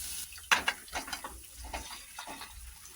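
Idli pieces tossed and stirred in a spiced pan, with a sharp clink of a utensil on the pan followed by a run of soft scraping and stirring strokes close by.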